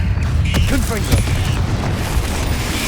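A Confringo fire spell explodes in the Hogwarts Legacy video game: a dense, boomy blast with crackling, rumbling game effects that fill the whole stretch at steady loudness, with a voice speaking over the action.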